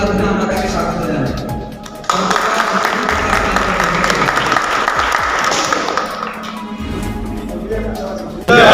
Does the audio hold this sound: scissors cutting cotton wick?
no